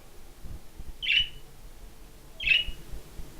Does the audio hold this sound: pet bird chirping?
yes